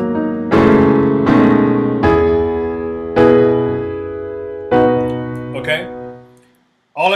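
Solo piano plays the first section of the gospel song "Jesus, Jesus, Jesus" into its transition: five sustained, ringing chords struck one after another at a slow, even pace, each decaying before the next, alone with no talk.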